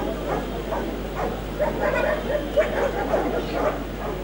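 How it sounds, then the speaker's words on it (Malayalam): Police dogs from a dog squad bark and yip during a performance at a Trivandrum Kennel Club dog show, short repeated barks amid a busy crowd background. "പോലീസ് നായകളുടെ പ്രകടനത്തോടെയായിരുന്നു തുടക്കം"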